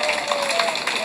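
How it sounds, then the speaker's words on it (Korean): A street rally crowd near Samgakji Station claps for one another, a dense wash of many hands with a steady tone running through it and voices mixed in. "우리 옆에 계신 분들한테 서로 박수 한번 쳐주세요"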